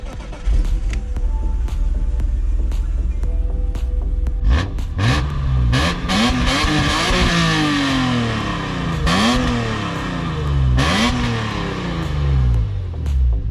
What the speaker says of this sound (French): Ok, donc là les gars, je vais démarrer la voiture, on va vous faire écouter un peu le bruit.